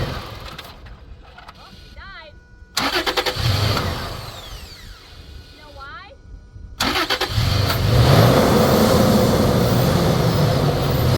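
A Toyota FJ Cruiser with its mass airflow sensor unplugged cranks and fires into a loud, rough idle, with a beep and a chime before it starts. A person talks over the engine.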